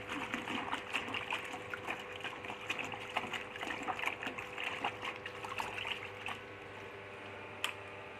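White shirt dipped and rinsed in a tub of fresh rinse water during dry-cleaning, giving faint, close trickles, drips and small splashes in an irregular pattern.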